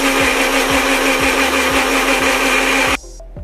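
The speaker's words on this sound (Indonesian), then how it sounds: "kemudian kita kisar bahan-bahan ni" Electric blender grinding garlic cloves with curry paste ingredients and a little water for beef kurma, a loud steady whirring drone with rhythmic thumps that cuts off abruptly near the end.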